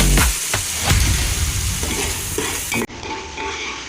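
Onions sauté in leftover fish-frying oil for a fish biryani, crackling loudly up close as a spoon stirs and scrapes the pan, with a sudden sharper burst of sizzle near the end.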